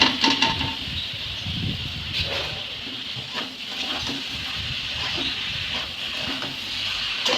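Boiled bottle gourd goes into sizzling spice masala in a pan, making a loud hiss that settles into a steady, close sizzle with faint stirring scrapes.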